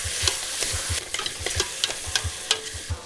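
Ground beef browns in a pot under a soft sizzle, while a utensil scrapes and stirs in a steady rhythm of close, repeated strokes.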